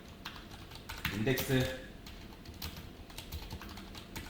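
Keyboard typing as JavaScript code is entered during a frontend coding lesson, a quick run of soft clicks under a brief spoken word from the instructor, fairly close and quiet.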